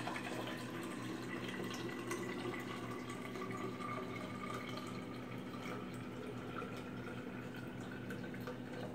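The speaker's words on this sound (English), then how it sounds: "Just fill up the water." Water fills a container in a steady, even rush with a low hum underneath, moderately quiet and unbroken throughout, no voices.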